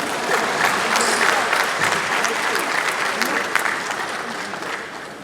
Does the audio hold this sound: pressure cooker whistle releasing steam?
no